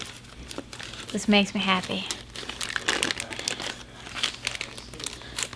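Zigzag packaging crinkles and rustles as a kit is unboxed, with bursts of crumpling paper close to the mic and a person talking over it.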